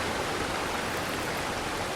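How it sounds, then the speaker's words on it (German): Water pours steadily from a jug onto a tree in the game Eastshade, a continuous broadband splashing rush that holds at an even level without breaks. "Und dann gieße ich den Baum da hin, der aber eigentlich schon im Wasser steht."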